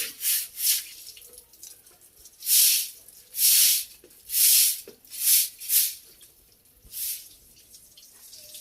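Intermittent splashes and drips of water, several short bursts with pauses between, close by, like hands rinsing something in a basin.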